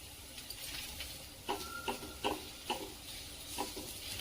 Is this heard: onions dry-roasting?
yes